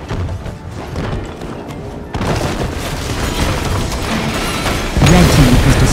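A fort being destroyed in Heroes of the Storm on the Haunted Mines map: heavy booming and crashing blasts that swell abruptly, with a dense rumbling roar and a second loud surge near the end.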